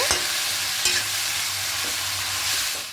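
Taro stems and potatoes stir-fried with ground spices, giving a steady, close hiss of frying throughout, with a couple of quick stirring scrapes.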